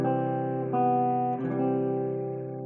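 Clean guitar plays a chord melody with chords dropped on the second and fourth beats, ringing sustained tones that shift a few times, moderately soft and alone.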